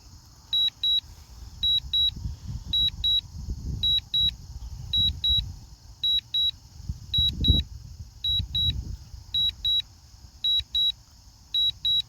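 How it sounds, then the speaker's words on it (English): A DJI Air 3 drone controller repeatedly emits pairs of high, sharp electronic beeps in a regular rhythm, loud and close, over a low rumbling wind or handling noise. "I really wish you could turn that beeping off, but unfortunately you can't."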